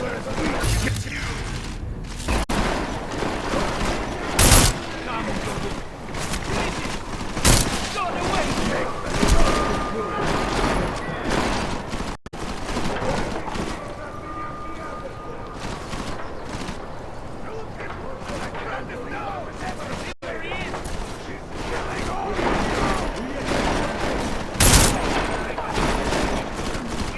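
Gunfire in Deus Ex: Mankind Divided crackles in bursts with mechanical clicks and occasional booms, mixed with voices talking over the action throughout.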